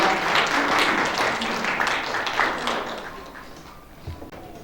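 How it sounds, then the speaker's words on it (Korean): An audience at a volunteer service awards ceremony breaks into hearty applause after a committee chair's appointment is read, the clapping loud at first, then thinning and fading, with some voices mixed in. "여러분 큰 박수 부탁드리겠습니다"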